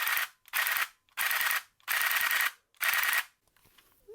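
A Nerf Rapidstrike blaster fitted with a solenoid kit fires five loud, rapid full-auto bursts in quick succession, each burst a dense mechanical rattle separated by short pauses, then fades into quiet handling noise.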